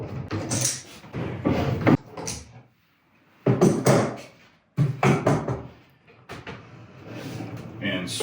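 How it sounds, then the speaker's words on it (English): Clamps being loosened and released during a wooden pantry cabinet build, giving a few close knocks and clattering bursts separated by short pauses. "Now, we can undo our clamps."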